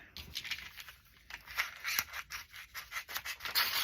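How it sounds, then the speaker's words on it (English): Scissors snipping out paper stickers by hand, faint and close, with irregular quick cuts and soft paper rustle. "So I'll cut these out individually here."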